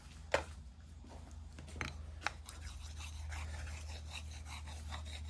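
The inside edge of a long bent carving gouge is stroked against a leather-covered wooden dowel, making soft, quiet, repeated rubbing scrapes up close with a few sharper ticks near the start.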